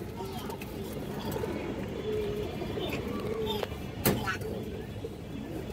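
Silver pigeons coo softly and repeatedly at a market stall. Their calls sit under a steady hum of background chatter and noise, with one brief louder knock near the end.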